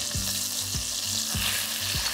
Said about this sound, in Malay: Cairkan butter dalam 2 hingga 3 sudu besar.